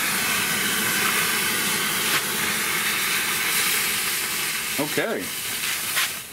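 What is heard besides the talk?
potassium chlorate and cornstarch mixture burning, hissing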